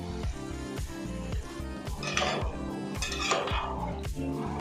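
Chicken is stirred with curd in a metal pot, giving close, steady clinks and scrapes of a utensil against the pot over a rhythmic background.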